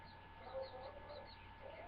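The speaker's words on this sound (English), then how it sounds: "it's this little baby bird I'm watching or taking care of" A month-old baby chicken chick calls faintly indoors, a few thin peeps over a low, steady background hum, with no one speaking.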